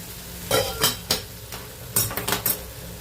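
Spoon scraping and stirring in a pan as chili, salt and ground peanut are mixed into a khandeshi onion-greens vegetable dish, a few short clattering strokes close by with quiet gaps between.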